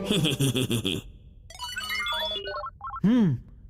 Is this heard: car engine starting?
no